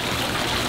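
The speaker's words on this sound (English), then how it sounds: "it's a lot of water spraying up in the air" Water sprays and splashes at a children's museum exhibit, a brief, steady hiss of rushing water heard close.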